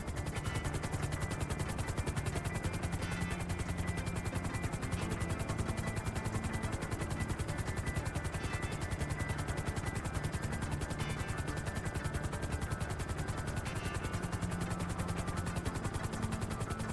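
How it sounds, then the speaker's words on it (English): Helicopter in Grand Theft Auto, a steady, continuous rotor thump and engine drone throughout, loud and close, with no talk. "Get ready to exit the helicopter."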